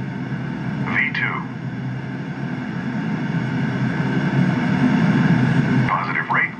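A Bombardier CRJ700 jet rolls for takeoff in a flight simulator game, a steady engine roar and hum running throughout, with brief chirping sound effects near the start and end.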